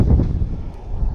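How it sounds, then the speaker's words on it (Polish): Strong stormy wind buffeting the microphone in stormy weather in Toruń, a loud low rumbling roar with gusty surges, close and continuous; rain is not clearly distinguishable. "Strasznie wieje wiatrzycho, zacina deszczem."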